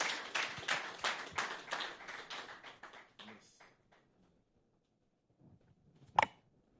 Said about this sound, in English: Please let that clap.